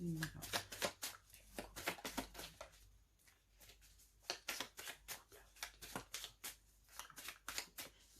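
Tarot cards being shuffled and cut by hand: a run of crisp riffling bursts and soft slaps in an uneven rhythm, close and fairly quiet, with someone speaking softly over part of it.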